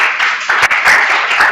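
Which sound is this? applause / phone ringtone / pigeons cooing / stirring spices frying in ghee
applause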